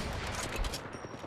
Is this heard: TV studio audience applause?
no